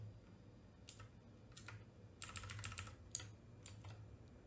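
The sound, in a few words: typing on a computer keyboard while reverting code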